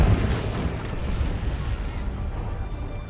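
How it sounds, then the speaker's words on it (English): A stun bomb in Dawn of War 2 bursts with a loud, deep rumbling boom that starts at full strength and slowly rolls off over a few seconds, with battle noise around it. "Stun bomb."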